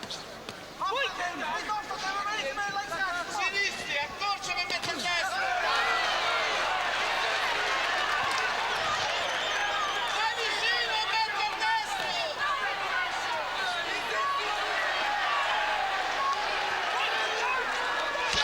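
An Italian crowd at a cruiserweight boxing bout grows noisy and excited, a dense roar of shouts and whistles that builds and stays loud, with a commentator talking over it.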